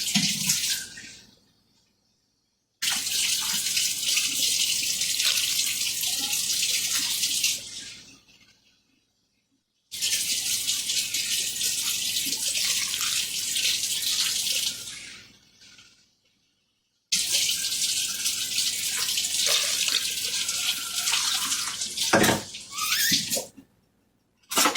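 Warm water runs from a tap in a home kitchen while bread dough is being prepared, three steady bursts of rushing flow, each several seconds long with short silent gaps between, close and fairly loud.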